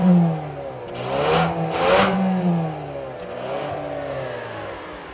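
A 2014 Ford Escape with a turbocharged EcoBoost engine and 4WD accelerates off-road in Colorado, revving up in several rising surges that sweep higher and then fall back, fairly close and loud, with no talking.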